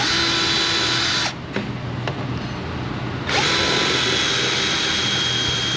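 A power drill runs loudly, stops briefly, then starts again with a steady high whine, close by, drilling holes sideways under a car body near the frame.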